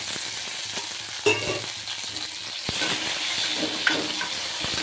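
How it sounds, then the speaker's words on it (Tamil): Tomato and onion sauté in a pan for a sundakai kuzhambu, giving a steady close sizzle broken by occasional sharp stirring clicks and scrapes. "அது கொஞ்சம் வதங்கட்டும்."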